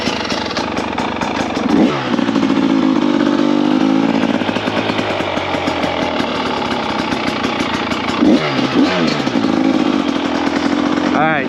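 A 2024 KTM 300xc-w two-stroke dirt bike revs loudly and close, its buzzy engine rising and falling through throttle blips while being ridden, with a voice faintly under the noise.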